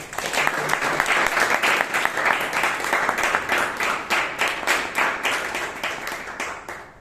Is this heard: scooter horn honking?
no